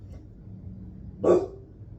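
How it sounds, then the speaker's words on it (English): A dog lets out a single short, muffled bark in an otherwise quiet indoor room. "Go outside and bark."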